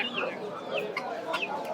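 Chickens cluck in short, repeated calls at a busy duck and chicken market, several birds sounding close by over light background noise.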